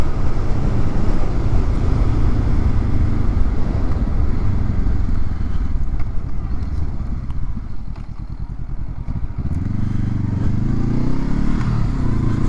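A 2023 Honda SCL500 Scrambler motorcycle cruising on an interstate, its engine droning steadily under heavy wind rush, with the pitch shifting near the end.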